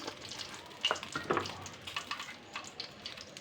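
More oil is poured into a hot pan that already holds leftover meat-frying oil, producing a faint, continuous crackling sizzle with small irregular pops.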